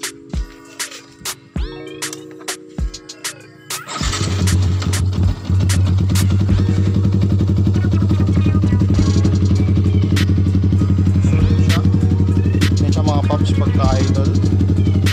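An Akrapovic GP style exhaust on a Yamaha R8 motorcycle: a few clicks and starter cranking, then the engine catches and settles into a loud, close, steady throbbing idle, with brief voices heard over it.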